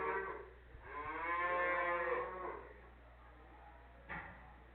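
A cow at a livestock auction gives one long, loud, drawn-out moo close by, followed by a short low grunt, over a steady low hum.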